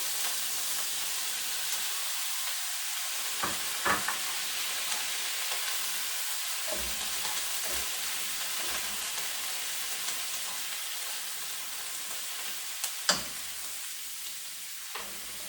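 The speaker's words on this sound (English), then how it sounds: "Now I'm going to add in like the egg." Egg frying with chive flowers in a pan, a steady soft sizzle running throughout with occasional light clicks of stirring, fairly quiet and close, no talking.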